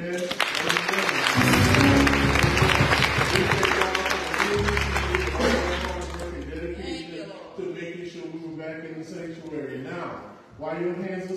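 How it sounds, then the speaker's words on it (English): Church congregation applause during a Sunday service, loud dense clapping over sustained low organ tones for several seconds, then fading as someone speaks and the room answers. "I would like to give a great round of applause to the reentry committee"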